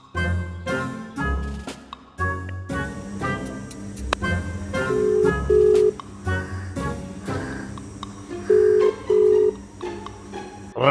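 A phone is dialed to place a call: steady electronic tones sound in short paired bursts over quiet room noise, moderately loud and without talk.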